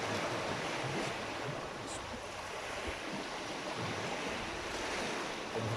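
Sea waves wash against the shore in a steady, broadband rushing roar with some wind, continuous and fairly loud, with no talking.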